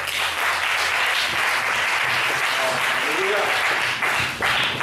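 A church congregation applauds loudly and continuously throughout, a dense roar of clapping with a preacher speaking over it.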